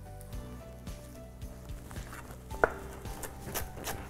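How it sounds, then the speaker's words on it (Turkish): A knife chops parsley on a cutting board in a home kitchen, making a quick run of soft, close taps that are fairly quiet, with a sharper knock near the middle and faint background music. "Önce maydanozları doğrayalım."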